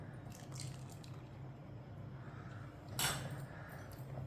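Yellow custard powder mixed with a little water being poured into a pot of sweet vermicelli, a soft liquid splash and drip rising briefly midway over a steady low kitchen hum, with no talking.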